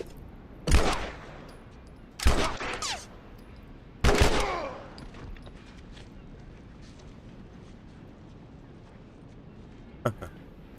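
Video game gunfire played on a PlayStation 3: three loud, sharp bursts of shots spaced about one and a half seconds apart, each with a ringing tail, then quiet and a lone faint shot near the end.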